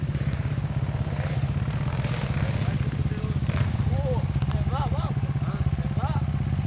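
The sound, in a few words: motorcycle revving engine on steep rocky trail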